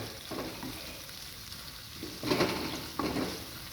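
Prawns fry in sambal in a pan, sizzling steadily under close stirring, with a few louder scrapes and turns of the spoon.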